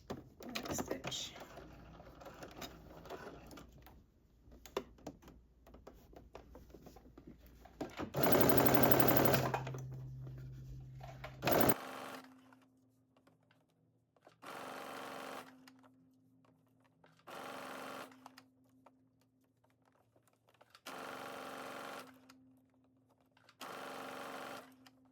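A sewing machine runs a sweatsuit seam in bursts: a dense rattling stretch first, then several short separate runs with quiet gaps between them.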